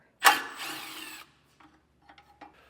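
A tool works loose a 10mm bolt from a bracket on a 2024 Cadillac Escalade, giving one close burst of whirring and grinding for about a second, followed by a few faint, scattered clicks and taps.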